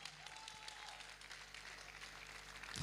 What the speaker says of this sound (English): Just keep clapping, just keep clapping.